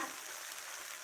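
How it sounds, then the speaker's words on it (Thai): Holy basil stir-frying with canned fish in a pan gives a brief, soft, even sizzle and hiss, quiet and continuous without any speech. "ผัดให้กลมกล่อมแบบนี้นะคะนี่คือผัดกะเพราแบบ ง่ายง่ ายแบบง่าย"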